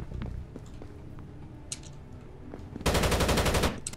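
Automatic gunfire in Rainbow Six Vegas 2, a loud sustained burst of rapid shots near the end after a quieter stretch of scattered game sounds, with no talking.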